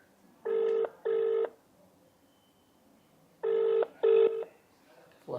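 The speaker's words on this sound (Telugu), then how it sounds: "రింగ్ అవుతుంది లిఫ్ట్ చేస్తున్నారు" A telephone ringback tone heard while a call is placed, two pairs of loud ring bursts separated by a short pause, steady and clear with faint background hiss between them.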